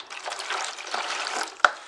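Hot water poured from a cup into a bowl to make chapati dough, a soft steady splashing trickle over about two seconds with a brief sharp clink near the end.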